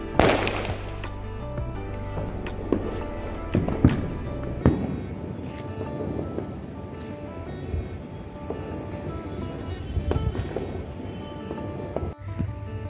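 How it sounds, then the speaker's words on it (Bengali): Firecrackers burst across a neighbourhood heard from a rooftop during a late-night celebration of a cricket World Cup win. Irregular distant bangs and crackles rise over a continuous rumble, with a sharp pop at the start. "ইন্ডিয়া ওয়ার্ল্ড কাপে মেবি জিতে গেছে, আর সেজন্য একদম প্রচুর পরিমাণে বাজি ফাটানো হচ্ছে।"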